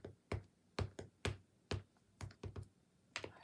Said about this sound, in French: Alors, allez, on tamponne.